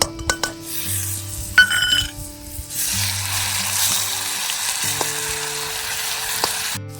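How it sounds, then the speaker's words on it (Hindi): Green chili and garlic paste, ground on a stone slab, sizzles steadily in hot oil in a kadhai, with occasional clinks and stirring scrapes of a utensil against the pan; no talk. "अब इन्हें भी तेल में डाल देंगे भुनने के लिए। साथ में डाल देंगे जो हमने हरी मिर्च और लहसुन का पेस्ट बना रखा है सिलबट्टे में।"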